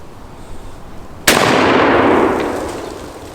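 A Model 1842 smoothbore pistol fires a single loud, sharp blast at an outdoor target range, its boom trailing off into a long decaying rumble after a quiet lead-in.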